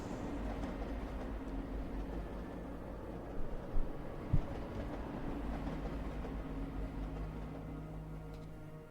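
A train rumbles past in the video game Eden Crafters, a steady low drone with faint metallic tones and a few brief clanks near the middle.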